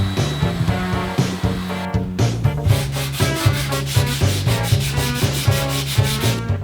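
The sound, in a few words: rounding over edges of wooden circle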